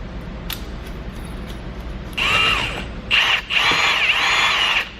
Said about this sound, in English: Put the nut on, and we should be able to just impact this on.